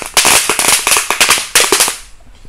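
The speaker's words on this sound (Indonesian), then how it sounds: "selanjutnya kita nyumet mercon telur dino, masih ada 2 guys" Telur dino firecrackers set off inside a motorcycle exhaust burst in a rapid, uneven string of loud, sharp pops, about a dozen cracks over two seconds before fading out.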